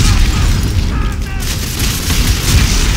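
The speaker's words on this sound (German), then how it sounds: "Ja komm, Granate." Grenade blast in Dead Space 3, a loud booming explosion with rumbling low end and crackling debris, heard amid game noise with a faint voice underneath.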